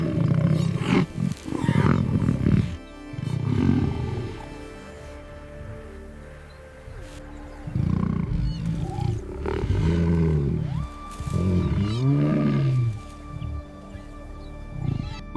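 A lioness charging at a group of mongooses gives repeated deep, loud roars and growls, close by and rising and falling in bursts with short pauses between them.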